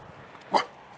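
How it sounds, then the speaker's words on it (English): A dog gives one short bark or yip at moderate distance, a single brief burst in an otherwise quiet outdoor walk. "Don't bark."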